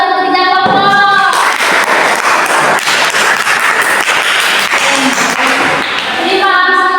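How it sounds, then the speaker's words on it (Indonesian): A classroom of students breaks into dense, sustained clapping for three student groups, with brief voices at the start and end. "Ini tepuk tangan untuk ketiga kelompok."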